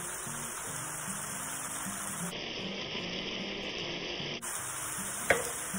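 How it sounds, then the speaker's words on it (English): Flour being stirred into browned ground beef sizzling in a pan for shepherd's pie, a steady close frying hiss with soft scraping and a brief clack near the end, no talk. "now I'm adding about 2 tablespoons of flour."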